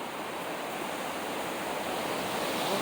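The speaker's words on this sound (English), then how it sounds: "Okay, the wind's coming up." Hurricane Ian's wind builds into a steady, loud rushing roar, a broad noise that slowly swells with no distinct gusts or other sounds.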